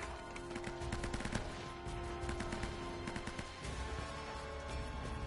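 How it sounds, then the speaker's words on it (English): Sustained bursts of automatic gunfire from Uncharted: Drake's Fortune, rapid crackling shots layered over steady game ambience, with no one speaking. "Gonna let them shoot those guys."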